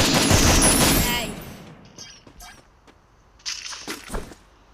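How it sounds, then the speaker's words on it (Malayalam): Gunfire in the video game Free Fire: a loud burst of rapid shots, then a lull with a few scattered sharper shots. "എവിടെ നിന്ന് വെടിയുണ്ട്?"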